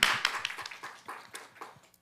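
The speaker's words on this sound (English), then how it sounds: "Can we have a round of applause for Dr." A handful of people clapping at a STEM workforce session, sparse and uneven, a few distinct hand claps that thin out over two seconds.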